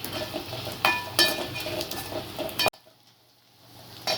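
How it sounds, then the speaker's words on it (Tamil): Turkey berries (sundakkai) fry in a pan for a village-style wedding kuzhambu, a close sizzle punctuated by sharp scrapes and clacks of a spoon stirring, then the sound cuts to near quiet before another stir. "இப்போ வறுத்து வச்ச சுண்டக்காவையும் வெளியே போட்டுக்கலாம் நல்லா வறுக்கணும்"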